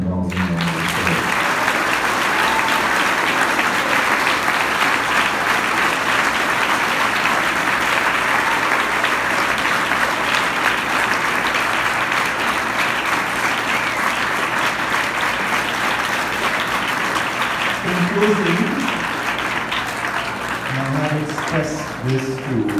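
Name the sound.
applause for the parents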